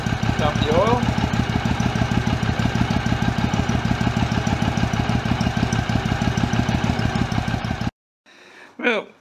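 Engine of a 2006 Triumph America motorcycle idling while warming up, a steady, close, loud rhythmic low thump throughout, with a voice briefly heard over it before it cuts out and a short burst of talk follows.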